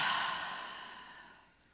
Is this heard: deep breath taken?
yes